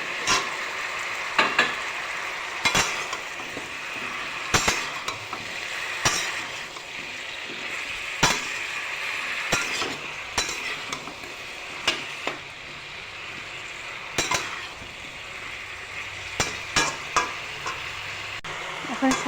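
Cut aubergines fry in a hot pan, a continuous loud sizzle with frequent spatula knocks and stirring scrapes throughout.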